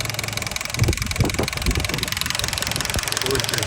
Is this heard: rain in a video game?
no